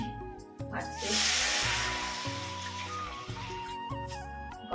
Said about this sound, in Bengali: তো এই দেখো গরম জল দিয়ে দিই এখন